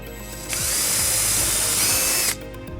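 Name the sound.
power drill drilling hole for Volvo XC90 trailer wiring harness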